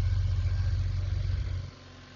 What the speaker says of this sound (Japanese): エンジンの方も静かな感じで振動も少なく